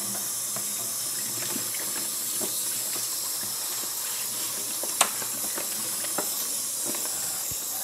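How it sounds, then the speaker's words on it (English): Tap water runs steadily from a kitchen faucet over a photo print in the sink, an even, close hissing flow with one small knock partway through. "Here's one print by the kitchen sink. And, well, it's time to wash the print and see what happens."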